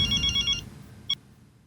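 A telephone rings in a short burst of bright electronic bell tones in a Hindi TV sitcom scene, then stops; a single brief chirp follows a moment later, with no talking.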